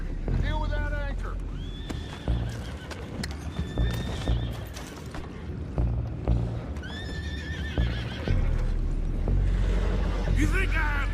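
Horses in the Red Dead Redemption 2 video game whinnying several times over clip-clop hooves and wind, with game characters talking throughout.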